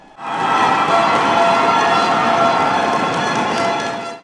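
A long final siren blares at a women's basketball championship game, loud and steady for about four seconds, with a cheering crowd roaring beneath it.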